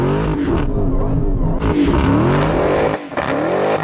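A Dodge Demon's 6.2-litre supercharged V8 roars through a burnout, loud and close, with harmonics sweeping up and down as it revs, tire squeal mixed in, and a brief dip near the end.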